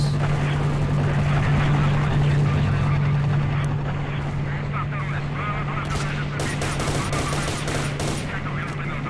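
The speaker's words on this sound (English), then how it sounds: "Also, helicopters." Helicopter rotor drone and rattling bursts of automatic gunfire in the S.T.A.L.K.E.R. Shadow of Chernobyl video game. The drone is loud and constant, the shots crackle in clusters later, and a voice talks over it.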